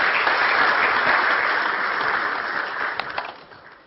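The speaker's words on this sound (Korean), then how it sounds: "박수로 한번 부탁드립니다." A church audience gives loud, sustained applause that thins out and fades toward the end.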